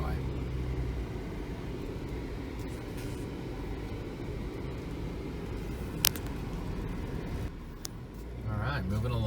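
An off-road vehicle climbs a pine-covered mountain trail toward Thomas Mountain, California, its engine a steady low rumble with road noise, a couple of sharp clicks and a voice talking over it.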